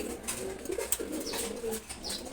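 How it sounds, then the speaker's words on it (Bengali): A pair of pigeons coo softly at close range, with low murmuring calls repeating steadily through the short stretch and a faint flutter of other bird sounds around them, no voices heard. "এখানে সুন্দর এক জোড়া কবুতর আছে,"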